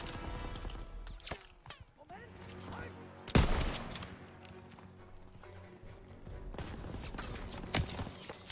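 Call of Duty: WWII firefight in Operation Cobra, with scattered gunshots near and far, including one loud close blast mid-way, amid clattering game sounds.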